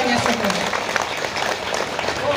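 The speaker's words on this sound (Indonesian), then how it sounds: "Tepuk tangan untuk tokoh-tokohnya semua" Crowd applause from a community gathering in the nagari of Salayo, dense and steady throughout, with a voice faintly audible beneath the clapping.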